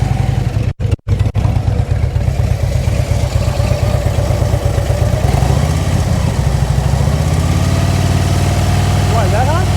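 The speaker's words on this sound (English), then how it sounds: "That's how your engine should sound." A motorcycle engine idles steadily at close range during slow-speed riding practice, a continuous low rumble with a few sharp dropouts near the start and a slight shift in tone midway; a voice speaks briefly near the end.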